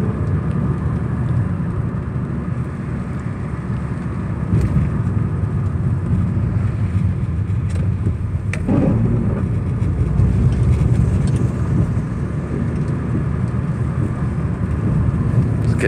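A Hyundai Elantra GT engine drones steadily at a constant idle-to-cruise level during a test drive, a loud low rumble filling the cabin with a single brief knock midway and no talk.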